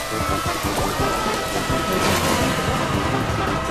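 Steady rain hiss from a rain cloud power-up in the kart racing game F1 Race Stars, a continuous wash of falling drops holding at an even, fairly loud level for the whole stretch with no voices.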